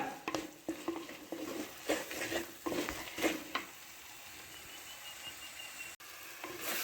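Red chilli powder being stirred and fried into chicken gravy masala, with repeated close spatula scrapes and clinks against the pan over a low sizzle, then a quieter steady fry.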